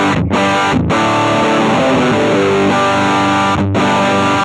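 A heavily distorted electric guitar crunch tone from an Axe-Fx II plays chords, loud and close, with a couple of brief pauses between strums before ringing out.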